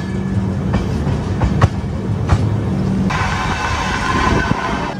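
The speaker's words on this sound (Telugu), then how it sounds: "అందుకే ట్రైన్ చాలా స్లోగా వెళ్తుంది" A passenger train rolls slowly near Srungavarapukota on the Visakhapatnam–Araku line, a steady rumble with rhythmic wheel clacks and a few sharp knocks, loud and close, no voices.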